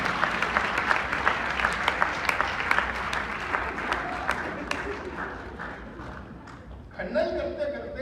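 Hindi comedy poetry gathering (hasya sammelan) in Chicago: a hall audience bursts into dense applause with scattered laughter, fading after several seconds before a brief louder swell, voices audible underneath.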